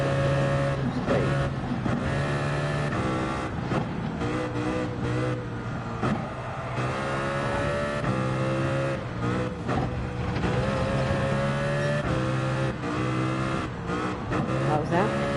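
Toyota Supra GT3 race car engine in Gran Turismo 7, a steady loud drone with shifting revs and gear changes, holding near throughout under occasional talk.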